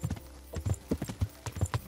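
Horse hooves clip-clop at a steady walking pace during riding in Kingdom Come: Deliverance, about a dozen close, distinct hoofbeats with no talk.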